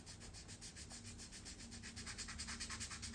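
Rapid rhythmic scratching of sandpaper rubbed back and forth on wood, steady strokes close up and fairly quiet.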